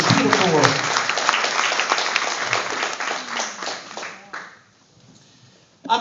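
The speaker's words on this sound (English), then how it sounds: "Give Rabbi Fine a round of applause." An audience bursts into applause at a tribute event, a dense wash of clapping that thins and fades out after about four seconds, followed by near-silence and a brief knock at the end.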